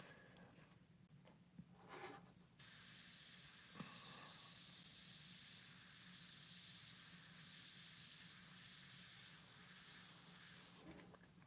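Spray paint hissing from a can onto a painting of firewood in flames, a few short bursts followed by a long loud continuous spray that cuts off abruptly near the end, close and alone.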